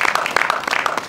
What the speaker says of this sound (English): You want to clap ahead of time